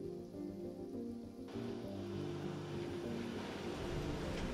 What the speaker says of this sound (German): da kommt jetzt der giftige Regen